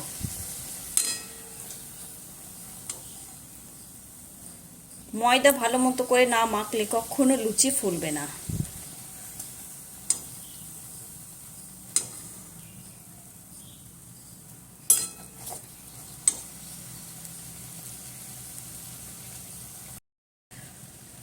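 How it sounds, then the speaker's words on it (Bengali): Luchi, a puffed wheat flatbread, deep-frying in hot oil, with a burst of loud bubbling sizzle midway that fades back to a low simmer, while someone talks over it. "তো হয়ে গেল লুচিটা, একটা লুচি ভাজা।"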